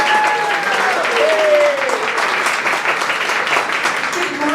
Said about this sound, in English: Let's give a round of applause and a welcome to candidate for DISD, Ms. Maureen.